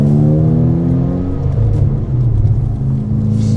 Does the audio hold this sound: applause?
no